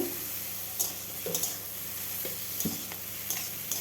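Spices for ghugni sizzle in a pan while a spatula scrapes and stirs them, a soft continuous fry broken by several sharp scraping strokes, close and fairly quiet with no voices.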